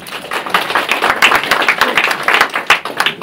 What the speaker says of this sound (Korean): 이렇게 박수라도 쳐주면 내년에도 더 잘할 것 같습니다